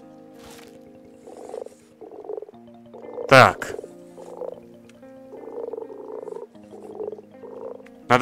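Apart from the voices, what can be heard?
frog croaking in a video game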